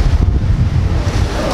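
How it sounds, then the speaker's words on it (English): Wind on a New York street buffets the microphone in loud, low rumbling gusts for a moment, with no other sound standing out. "Ooh, Jesus, that is windy."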